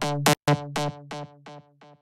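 A plucked synth lead made in Reason repeats one bright note about six times, each echo of the delay quieter than the last, with no stereo offset between channels.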